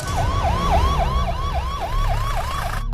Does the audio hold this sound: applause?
no